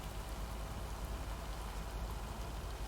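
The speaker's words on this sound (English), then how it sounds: "listening to the rain and trundling through." Rain in the video game Lake falls as a steady, soft, even hiss without a break, with no voices heard.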